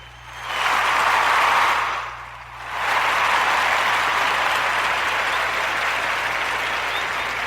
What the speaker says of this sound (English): We're gonna put the hand clap on for you.